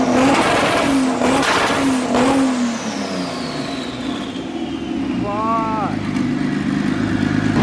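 A turbocharged BMW E46 M3 roars on a dyno, its engine surging and falling through loud, close revs with sharp rising pulls, while voices come through faintly under the noise.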